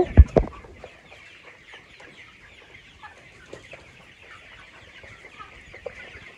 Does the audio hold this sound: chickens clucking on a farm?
yes